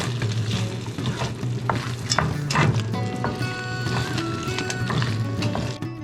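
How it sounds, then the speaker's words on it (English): Spoon stirring shepherd's pie filling of rehydrated herbs, peas and home-canned corn in a pan, with steady scraping and soft sizzling close up, a low constant hum underneath and no talk. "Just get everything stirred together."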